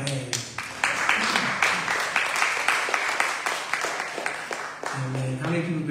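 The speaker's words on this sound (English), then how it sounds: "Let's clap our hands." A church congregation claps hands at a Communion Sunday service, a fairly steady run of clapping in a roomy space with voices present beneath and after it.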